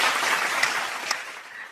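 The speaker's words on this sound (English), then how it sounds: "Can we have a team round of applause to welcome her?" An audience at a Women in Technology forum in Nigeria claps to welcome a speaker, making steady, moderate applause that sounds fairly distant, with no talking.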